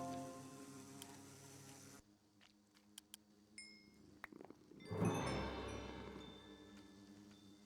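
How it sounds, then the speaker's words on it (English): Buzzing insect drones hum through a Minecraft Bumblezone mod scene near the queen bee, a steady low buzz swelling louder midway, with scattered faint clicks and game tones. "here is the queen bee"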